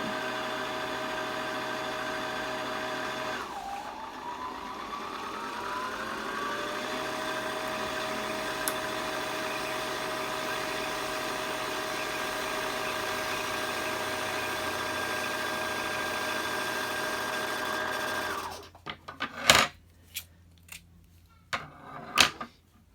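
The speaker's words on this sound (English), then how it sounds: "Push down on the foot pedal, and it will start to wind the bobbin." A sewing machine winding its bobbin under foot-pedal control gives a long, steady motorized hum that rises in pitch, then stops and leaves a few scattered clicks and taps.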